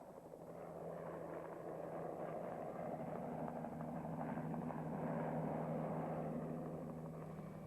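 A radio-controlled scale model helicopter hovers in place, its steady rotor and engine drone holding constant and fairly loud throughout with no voices.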